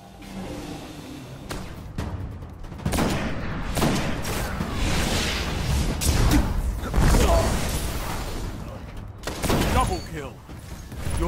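Sniper rifle shots from a quick scope with the No Land Beyond in the game Destiny, loud sharp cracks and booms among busy combat effects, mixed under steady talk.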